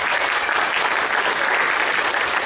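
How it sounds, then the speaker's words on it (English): A large convention crowd at a furry con breaks into dense, sustained applause, a loud continuous wash of clapping with no gaps. "Big round of applause."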